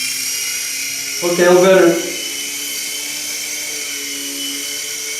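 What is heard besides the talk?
XVB beginner RC helicopter rotors flying after hand takeoff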